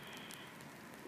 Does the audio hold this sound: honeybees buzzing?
no